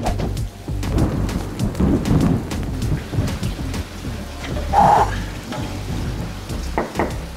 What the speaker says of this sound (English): I timed this rain perfect.